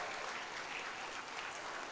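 Audience applause at a medical college graduation ceremony, a steady wash of many hands clapping at even loudness throughout, with no talk over it.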